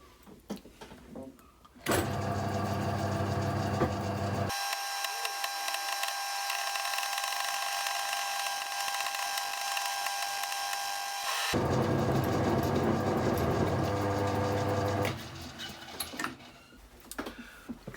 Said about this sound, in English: Swap over to the end mill now to make a square base to this, and also to get the diameter absolutely right.